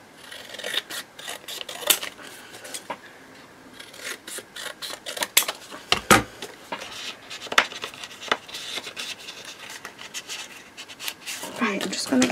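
A paper trimmer slices the edge off journal paper, a run of close, dry rasping and scraping strokes with intermittent clicks and light knocks, fairly quiet, with occasional brief talk.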